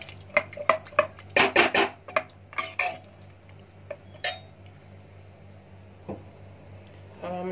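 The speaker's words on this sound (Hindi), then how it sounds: "अब हमने कुकर का ढक्कन लगा दिया है" Metal clatter of a pressure cooker lid being fitted and closed, several sharp clanks and scrapes close by, then quieter with a few faint knocks.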